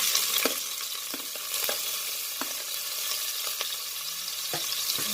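Sliced onions and cloves fry in oil in a pan, a steady bright sizzle with occasional scrapes and clicks of a spoon stirring, close and fairly loud with no voices.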